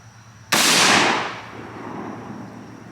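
A single loud gunshot from a firearm loaded with PMC X-Tac ammunition is fired at body armor on an outdoor range, a sharp close blast followed by a fading echo.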